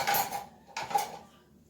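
A spoon pulled from a drawer of cutlery in a home kitchen: two short metallic clattering rattles, close and fairly clear, with a brief pause between them and no voices.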